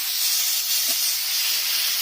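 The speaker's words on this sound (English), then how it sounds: "Straight away, because we're up to temperature, you can hear that sizzle." Meat sizzles on a hot Ninja Woodfire grill, a steady loud hiss with no break for two seconds and no talk.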